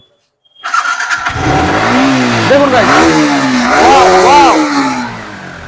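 A motorcycle engine cranks and catches, then idles loudly and revs up twice in rising swells while someone talks over it.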